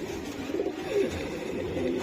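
Giribaz chila pigeons coo in low, throaty, repeated bursts, close by and overlapping, sounding clearly over a light background hum.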